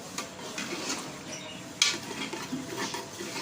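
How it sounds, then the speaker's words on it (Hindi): Milk being stirred into mutton palak gosht in a pot, with soft scraping and clinking of a spoon against the metal and one sharper knock partway through, close and moderately quiet. "आधा कप दूध शामिल करने के बाद इसको मिक्स करेंगे"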